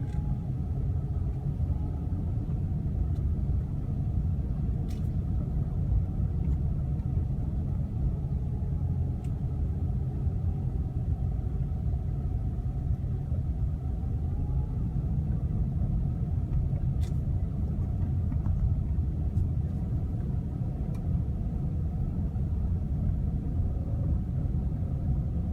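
A car drives through the quiet roads of Ontario International Airport in California on a Sunday, a steady interior road rumble and engine drone holding level throughout, with faint occasional ticks and no talking.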